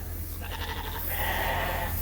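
Sheep bleat in a barn pen with fresh bedding, several higher calls overlapping in a steady run over a constant low hum from the shelter, fairly close and moderate in volume.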